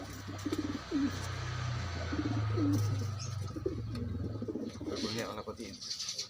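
Pigeons coo nearby in repeated soft, low, rolling calls, with someone speaking over them throughout.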